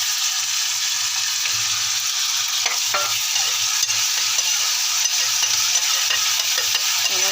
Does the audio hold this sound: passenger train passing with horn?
no